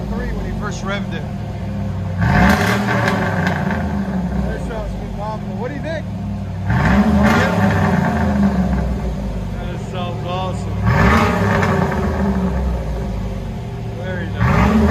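A cammed Chevrolet Silverado engine revs through an aftermarket muffler in three strong bursts, a deep throaty rumble over a loping idle, while people talk nearby.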